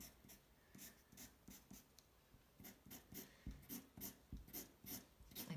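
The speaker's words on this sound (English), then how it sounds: "I'm pushing hard with my pencil now." Pencil lines drawn hard on paper during a beginner drawing lesson, a steady rhythm of short scratchy strokes repeating about twice a second, close and fairly quiet, with no talking.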